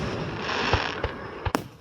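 A distant Fourth of July fireworks show gives off a continuous crackling glitter hiss broken by several dull thumps and one sharper bang near the end.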